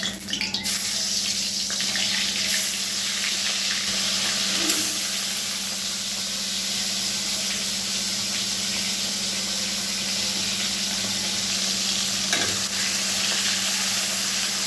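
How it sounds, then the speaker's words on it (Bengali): Pomfret fish fry in hot oil in a wok, giving a steady, dense sizzle that holds evenly throughout with no talking. "এই কটা মাছ দিলাম, এগুলো ভাজা হোক আস্তে আস্তে"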